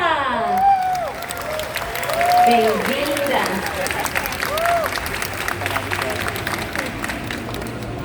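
A live audience at a voice-actor panel applauds and cheers to welcome a guest, with loud clapping under an announcer's voice and other voices.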